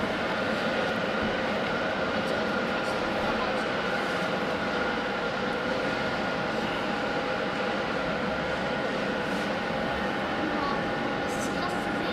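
Lufthansa City A320neo airliner at Hamburg Airport, a loud sustained jet engine roar with steady broadband rush and a faint whine, continuous throughout and without talk.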